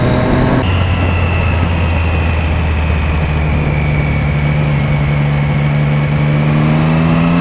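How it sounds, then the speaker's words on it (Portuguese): Road traffic with engines passing close by, one droning engine note rising and holding steady while others hum underneath, a continuous loud vehicle roar with no talk. "Olha as motos, isso é doido."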